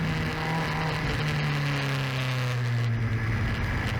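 A car rolling out onto a race track before a hot lap, its engine droning steadily with a shift in pitch as it pulls away, loud and close from inside the car, with no talk.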